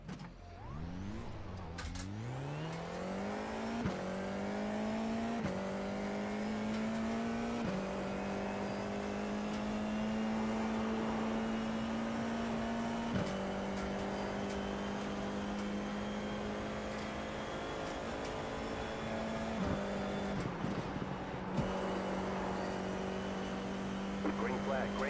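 Formula 4 race cars on a warm-up lap at Summit Point, engines droning steadily at a fairly constant pitch that shifts through gear changes, loud and close throughout with a faint voice underneath.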